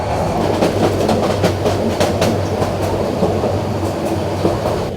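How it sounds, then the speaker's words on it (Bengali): The Sonar Bangla Express pulls out of Dhaka with a loud, steady rumble of rail cars and a rhythmic clickety-clack of wheels over track joints, close and continuous. "গাইস, ট্রেন ছেড়ে যাচ্ছে ঢাকা আর পিছনে পড়ে থাকছে রাজধানীর ব্যস্ত কোলাহল।"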